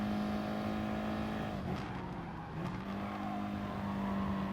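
A race car engine drones and revs at Red Bull Ring in a video game daily race, a steady close tonal hum that dips briefly mid-lap and climbs back, with no talking.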